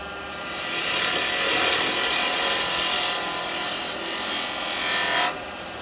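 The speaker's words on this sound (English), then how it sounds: "now I'm using my detail chisel" Carbide detail chisel cutting wood on a spinning lathe, a steady close scraping whir that swells and eases as the tool bites, then cuts off near the end, no talking.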